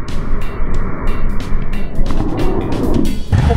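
A Honda NC750X DCT automatic-transmission motorcycle being ridden, its engine drone loud and close with wind rush, pitch shifting as it accelerates near the end.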